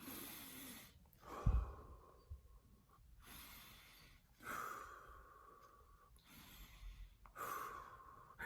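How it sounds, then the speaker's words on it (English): Several slow, deep breaths drawn in and let out, soft and close with pauses between each breath, with no talking over them. "take in a few deep breaths"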